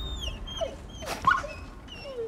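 Wolves whimpering in a video game set in Midgard, with several high, sliding whines and yips at close range, alone without talk.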